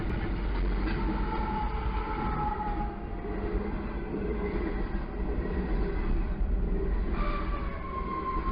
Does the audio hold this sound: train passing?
yes